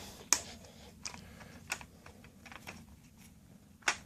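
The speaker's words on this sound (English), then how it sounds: "And pull out the disc right here." Sparse sharp plastic clicks and snaps as a Crash Tag Team Racing game disc is worked at inside its case, four distinct close knocks spread over a few seconds against a quiet, low room hum.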